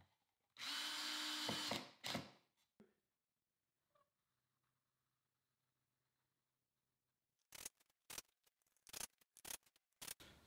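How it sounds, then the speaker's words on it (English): A power drill set to very low torque driving tiny screws into a wooden hand-tool caddy: one loud close whir of about a second and a half, quiet stretches, then a series of short sharp clicks and bursts. "So I've got my drill set to a very low torque"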